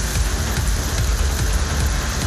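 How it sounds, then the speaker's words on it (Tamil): Summer rain pouring down in Vellore, Tamil Nadu, a dense, steady hiss of heavy drops hitting the ground, close and uninterrupted. "வேலூரில் 3வது நாளாக மழை பெய்ததால் குளுமையான சூழல் உருவானது."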